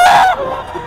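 Loud single honking squawk of a bird, close and brief, amid chickens and roosters at a poultry market in Bocaue.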